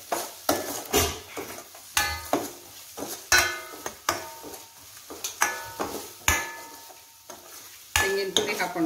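A spoon scrapes and knocks rhythmically around a pan as jaggery is fried with leftover rice ball upma, giving about a dozen sharp, close stirring strokes over a soft, low sizzle.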